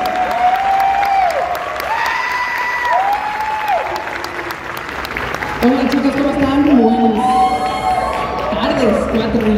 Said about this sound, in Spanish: Un fuerte aplauso, por favor, para Erika Rodríguez y Carlos